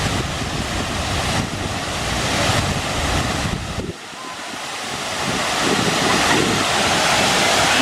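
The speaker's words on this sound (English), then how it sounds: "the splash of the water is very cooling" Steady broadband rush of waves and water splashing, loud and continuous, with gusty wind buffeting the microphone.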